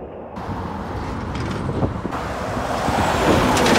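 A truck passes on the road at Seaforth, its engine rumble and tyre roar building steadily from moderate to louder over a few seconds against wind and traffic noise.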